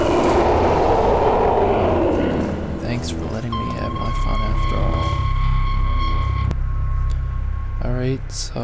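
A train runs inside the video game Black Mesa: a steady loud rumbling and clattering of rails with a sustained tonal hum and metallic screeches, ending with a brief electronic chirp.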